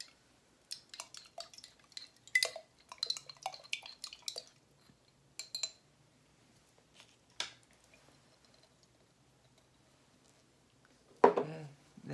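Red, blue and black slime mixed with sugar, soda water, gold paint and glue, giving soft wet squelches, drips and clinks of a utensil against a container, near and quiet, in scattered bursts with pauses.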